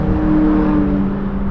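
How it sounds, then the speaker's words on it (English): Powerful muscle cars rush past at high speed on an expressway between the Bronx and Queens, a loud sustained engine roar and tire whir filling the scene with steady droning tones. "Muscle cars zipping past me at high speed."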